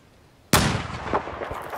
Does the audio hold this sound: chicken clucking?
no